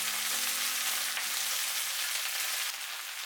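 Cabbage dropped into hot oil with golden chopped garlic in a stir-fry, a strong steady sizzle close up with light stirring, no voices.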